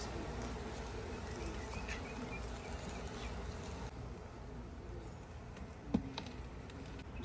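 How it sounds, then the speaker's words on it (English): Bees buzz in a low, steady swarm drone around a beehive frame lifted up by hand, fairly quiet and continuous, with one small sharp knock partway through. "Holding a board with an entire beehive attached is what I live for"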